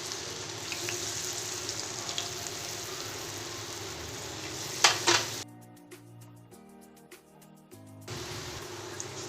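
Crackling sizzle of baby corn frying in hot oil, with a brief louder spatter, then a quiet stretch of faint tonal hum before the frying returns.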